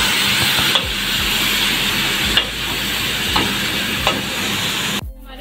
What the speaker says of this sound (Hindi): मीडियम फ्लेम पे इसको अच्छे से हमें फ्राई करना है